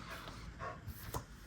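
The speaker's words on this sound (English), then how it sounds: "Nala, don't be barking." A pet dog gives a few faint, short barks indoors, quiet and spaced apart with no talking over them.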